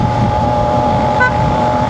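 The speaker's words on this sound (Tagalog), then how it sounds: "Hina na busina." A motorcycle horn sounds over a steady idling engine of a Kawasaki AK550 Premium scooter, a thin, weak toot standing out briefly midway.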